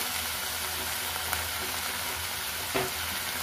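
Carrot bonda frying in oil, a steady close sizzle and crackle with a couple of brief stirring clacks, no voices.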